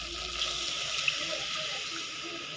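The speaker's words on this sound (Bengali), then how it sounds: "এবার একটু এর মধ্যে জল দিয়ে দেবো, ঈষদুষ্ণ জল" Lukewarm water poured into fried masala for egg korma in a home kitchen, a steady close splashing pour that runs evenly throughout without pause.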